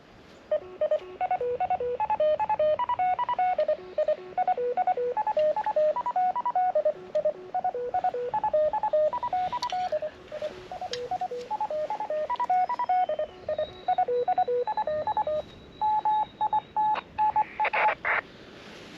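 A low-power QRP fox-hunting radio transmitter beacon heard through a receiver, sending a steady run of short, evenly paced tone bursts that hop between pitches, with a single held tone near the end.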